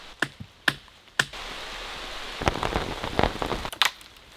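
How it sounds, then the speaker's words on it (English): Steady rain patters on a surface, with a few sharper drops tapping nearby. It is soft and fairly quiet, with no voices. "Definitely raining."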